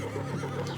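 A horse gives a short, close whinny that fills most of the brief moment on its own, with no talking over it.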